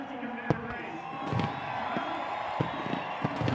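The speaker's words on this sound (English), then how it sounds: "The crowd, the cheer you hear is for, there's Joey Logano getting out" Crowd noise at a NASCAR East/West combo race at Iowa, a broad steady roar of cheering with a few sharp whoops and knocks on top, distant and continuous throughout.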